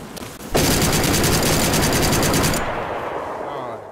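Ash-12 12.7 mm rifle fired in a video game: a loud, rapid automatic burst of evenly spaced shots lasting about two seconds, then a fading tail as the firing stops.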